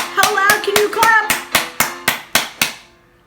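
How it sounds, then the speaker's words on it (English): Preschool children in a Sunday School class clapping loudly in about ten sharp, evenly spaced claps, voices chattering over the first few before the last claps ring out alone and stop. "How loud can you clap?"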